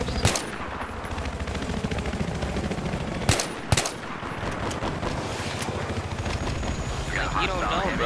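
Gunfire in Battlefield 3 rattles in sustained automatic bursts, with a few sharper single shots standing out over a constant dense battle din.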